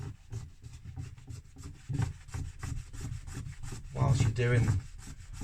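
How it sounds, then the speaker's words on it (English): A cloth is rubbed back and forth over roofing lead while applying white vinegar, producing a steady, close scuffing sound in repeated strokes that grows louder and rougher near the end. "Rub the cloth all over the lead."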